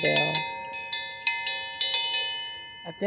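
A small metal dinner bell chimes several times, each bright ring decaying slowly and overlapping the next, close by with a brief voice sound at the start.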